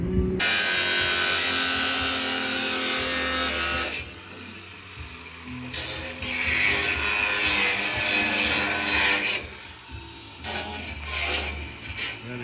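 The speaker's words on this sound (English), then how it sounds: "Cut out a notch right here on both sides because there's a bolt right in our alignment" A power tool cuts a notch into the steel bed frame of a 1958 Chevrolet Apache truck, a loud, harsh, continuous cutting roar that breaks off briefly twice and then resumes, close up and with no voices.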